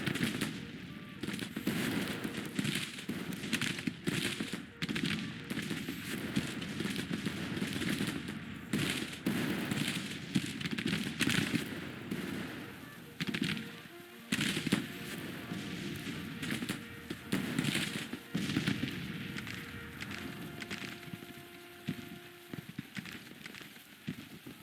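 Massed musket volleys in a large Civil War battle at Bull Run in a strategy game crackle continuously for the whole stretch, dense overlapping rifle fire rolling in irregular waves at a steady, fairly loud level.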